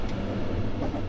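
A train pulls into a station on the Narita Line in the JR East Train Simulator game, a low rumbling roll with a steady rail hum at close range.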